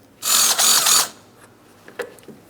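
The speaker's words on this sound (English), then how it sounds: "Let's remove that bolt. Same thing on the other side." A 10mm bolt is removed from the front bumper of a 2008-2016 Chrysler Town & Country, heard as one close, loud whirring burst from a power tool, then a couple of faint clicks and taps.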